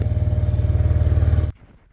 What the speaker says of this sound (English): The four-wheeler's a nice tool, but it can only move so much at a time.